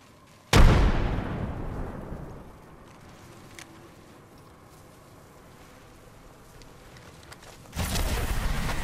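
A grenade detonates in a first-person shooter game: a loud, close boom that rolls off over about two seconds, then a quieter lull before another heavy blast erupts near the end.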